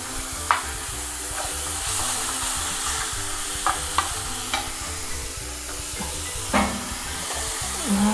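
Celery sautéing in a pan for a seafood stew, a steady close sizzle and hiss with a few soft stirring scrapes and small pops, no talking.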